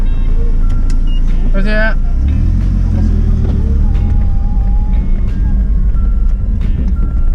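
A BMW E30 drives out of a residential complex, its engine rumbling steadily and close beneath someone talking over it throughout.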